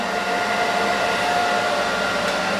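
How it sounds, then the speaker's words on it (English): A blow dryer runs continuously at close range during a scissor-over-comb pompadour haircut, a steady loud whooshing whine with no pauses. "Use your blow dryer as well. Heat it up."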